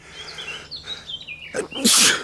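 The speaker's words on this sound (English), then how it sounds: "I had to sneeze." A single loud, sharp human sneeze bursts out near the end, after faint bird chirps in the background.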